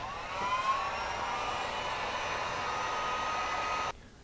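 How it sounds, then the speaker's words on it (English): A heat gun curing freshly sprayed grain on a vinyl repair, giving a steady whirring blow with a faint whine, held evenly for about four seconds before stopping sharply. "Now I'll cure out the spray grain with the heat gun for about 20 seconds."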